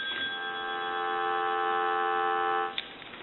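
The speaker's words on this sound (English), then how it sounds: "Give you some dial tone." Steady continuous dial tone on an ITT Touch Tone desk telephone under repair, a flat sustained tone held for about three seconds before cutting off abruptly, followed by a faint click.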